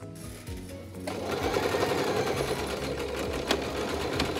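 Sewing machine running steadily as it stitches a seam on a cloth face mask, starting up after a brief pause and then humming with a continuous rapid needle clatter, close and fairly loud.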